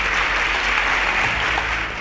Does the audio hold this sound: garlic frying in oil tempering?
no